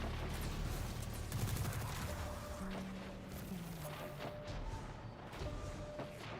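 Scatter grenades burst in Destiny 2, a dense crackle of rapid small explosions and gunfire-like pops over continuous game noise, with low tones sliding underneath and sharp impacts scattered throughout.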